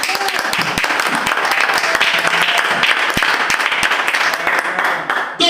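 A church congregation bursts into loud, sustained applause with dense clapping throughout, mixed with cheering voices.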